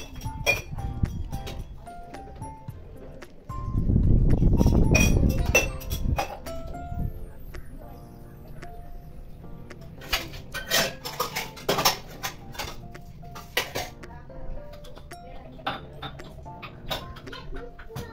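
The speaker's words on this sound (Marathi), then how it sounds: "इथे मी मिक्सर क्लीन करत आहे" Cleaning a mixer grinder jar in a home kitchen: repeated clinks and knocks of metal and dishes, a burst of running water and scrubbing, then irregular clattering.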